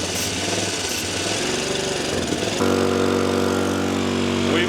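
A 1985 Honda Elite scooter engine, air box off, cranks and sputters before catching and running at a high, steady buzzing idle, loud and close.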